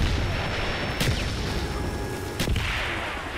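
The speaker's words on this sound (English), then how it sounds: "Mortar coordinates received, firing for effect." Mortar strikes in Call of Duty Black Ops, two sharp explosive thuds about a second and a half apart over a dense, rumbling battlefield din.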